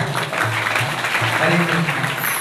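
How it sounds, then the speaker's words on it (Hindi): Applause from an audience at a Srimad Bhagwat saptah religious gathering in Baraut, a steady dense patter of many hands filling the space, with a voice speaking over it. "जोर से तालियां"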